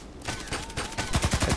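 Rapid automatic gunfire from the Contract Wars shooter game, loud and close, a dense burst of regular shots that grows heavier toward the end.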